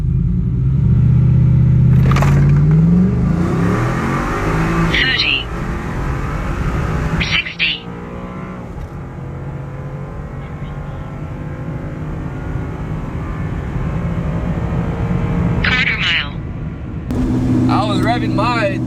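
A Ford Coyote V8 truck engine, from a 2016 F-150 with a ported manifold, revving hard toward 7,000 RPM, loud rising roars with sharp blips and a steady idle between, with a voice heard at times.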